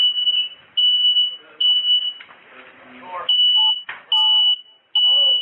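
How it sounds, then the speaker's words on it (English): A fire alarm sounds during SWAT entry footage, shrill repeated beeping in long bursts with short gaps, loud and close, with people talking underneath between and over the tones. "we can hear the fire alarm begin going off when the SWAT team blows in."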